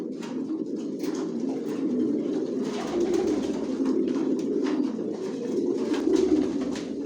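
Racing pigeons in a loft keep up a dense, steady chorus of overlapping throaty coos that stays loud and close throughout, with no voices.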